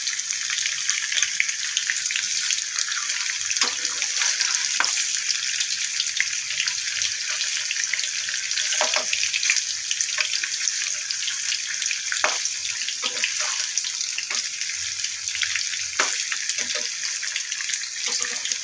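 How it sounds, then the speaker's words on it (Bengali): Paneer sizzles steadily in hot oil in a pan, a dense continuous frying hiss close to the microphone with occasional small pops and clinks, and no talk over it. "পনিরটা একটু ভেজে না নিলে ভেঙে যেতে পারে, এই জন্য একটু ভেজে নিচ্ছি পনিরটা।"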